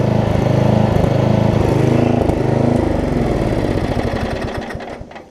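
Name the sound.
Murray riding lawn mower engine running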